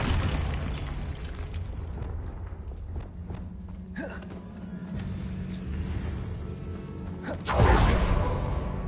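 A Confringo spell blast in Hogwarts Legacy bursts loudly near the end, following a quieter whoosh midway over a steady low game ambience.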